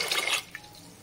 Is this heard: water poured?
yes